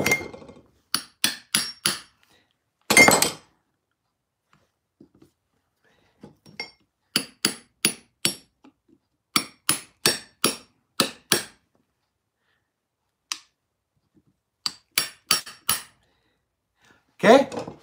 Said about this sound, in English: I get a screwdriver and I put it in here